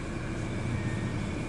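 A steady broadband rush of air blows from the air conditioning vents inside a Toyota Innova, with the engine running, constant and close, with no talking.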